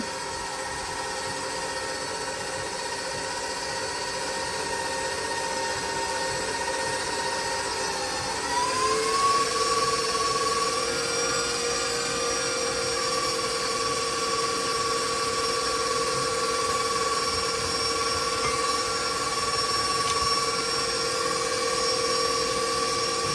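Electric mixer whirring steadily through cinnamon roll blondie batter, a constant motor whine that rises in pitch and grows slightly louder partway through, heard alone and close.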